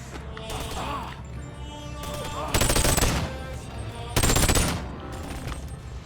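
Bursts of rapid automatic gunfire from ranged weapons in a video game rattle in several loud volleys, with two heavier, denser bursts standing out over steady background game noise.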